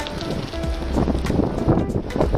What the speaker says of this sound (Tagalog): Sobrang lakas ng hangin sa C6.